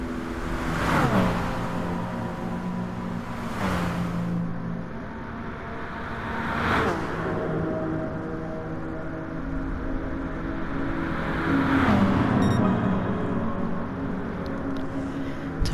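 Audi TT and McLaren race cars in a racing video game on the straight of Tokyo's East Inner Loop, engines droning steadily with repeated rising whooshes as cars pass by at speed.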